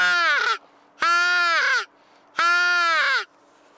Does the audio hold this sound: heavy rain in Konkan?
no